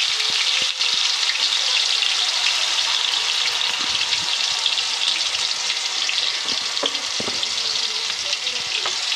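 Onion paste frying in hot oil with fenugreek seeds and cumin for a Telugu fish pulusu, a steady, loud, close hiss of sizzling that runs unbroken throughout, with a few faint clinks and stirring scrapes underneath.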